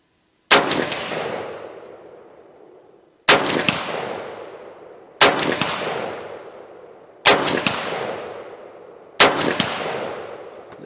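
Five loud, sharp gunshots from a 7.62 AK-type rifle, spaced about two seconds apart, each cracking out and trailing off in a long echoing decay.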